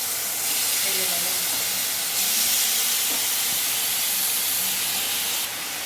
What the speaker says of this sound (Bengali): এবার একটু টুকরো করে দিয়ে ভেজে নেবো। বেশি তেল দিচ্ছি না, অল্প তেলেই ভেজে নেবো।